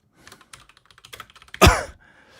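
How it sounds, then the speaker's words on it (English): Rapid, uneven keystrokes on a computer keyboard, typed hard and fast, end in one loud thump as if a key or fist is slammed down; close and alone. "Angry typing."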